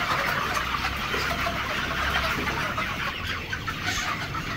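Broiler chickens in a small, crowded poultry shed give a dense, continuous chorus of clucking and murmuring close by, over a constant background hum.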